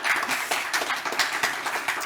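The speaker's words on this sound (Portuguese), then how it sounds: "Um aplauso para ele." Audience at a telecom industry conference applauding as a guest is invited to sit on stage, a steady, moderate clatter of many hands lasting a couple of seconds.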